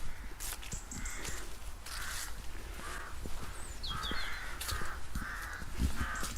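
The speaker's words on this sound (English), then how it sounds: "And the crows are crowing, not hawking." Crows caw repeatedly outdoors in early autumn, harsh calls coming in a rough rhythm of about eight or nine bursts against a constant low rumble of background noise, with no talking.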